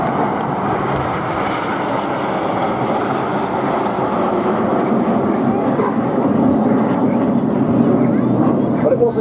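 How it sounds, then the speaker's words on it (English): A Supermarine Spitfire fighter flies over an air show, its broad engine roar steady and loud and swelling slightly toward the end, while an announcer speaks over the aircraft noise. "Ladies and gentlemen, this is Spitfire."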